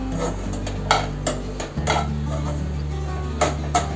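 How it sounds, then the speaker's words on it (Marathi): Food is sautéed in ghee in a pan with a spoon that scrapes and clinks against the metal in irregular strokes over a low background hum that shifts partway through. "चांगलं परतवून घ्यायचं तुपावर"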